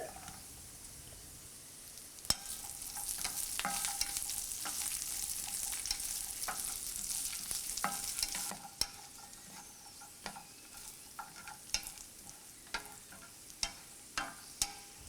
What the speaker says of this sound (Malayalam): കാഷ്യൂസ് ഒരു ലൈറ്റ് ഷെയ്ഡായി കഴിയുമ്പോൾ ഇതിലോട്ട് റൈസിൻസ് ഇട്ട് ഫ്രൈ ചെയ്യുക.